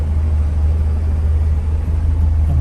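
A 1966 Morris Traveller engine idling smoothly, a steady low rumble heard close and continuous with no voices.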